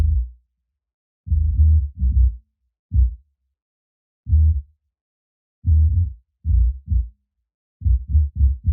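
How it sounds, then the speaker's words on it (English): A deep, low bass line plays alone in short, punchy notes with irregular gaps, booming and close with nothing else above it. "Next I just added this bass that sounds like this."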